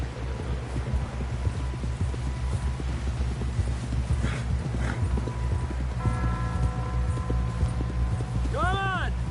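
Horse hooves clip-clop in a steady rhythm while riding in an old west setting, close and continuous under a low hum, with voices speaking over it and a brief whinny near the end.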